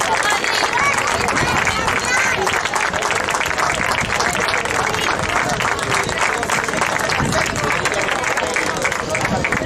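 Audience at a beach handball trophy ceremony in Moaña clapping steadily, a dense, loud, sustained patter of many hands with crowd murmur underneath.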